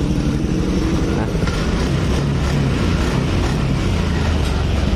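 A 2018 Honda Beat motorcycle engine runs steadily after a cam timing chain tensioner repair, giving a continuous close, loud idle rumble that holds for the whole stretch with no pauses.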